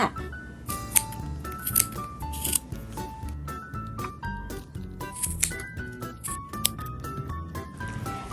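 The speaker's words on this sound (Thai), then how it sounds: "จากนั้นใช้กรรไกรตัดครึ่งไหมคมให้รอบวงเลยค่ะ" Scissors snip repeatedly through yarn looped around a pom-pom maker for a Christmas wreath, with quick crisp cuts close by over soft background music.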